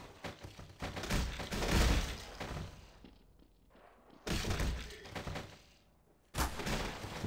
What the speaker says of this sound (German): Chris, hast du auf mich geschossen?